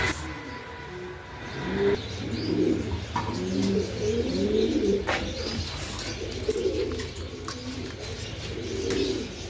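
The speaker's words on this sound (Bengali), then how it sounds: "এখানে আছে একজোড়া রোমান গাল" A pair of Roman pigeons with clipped wing feathers coo in repeated low, throaty phrases close by, with a few faint chirps and light background noise between calls.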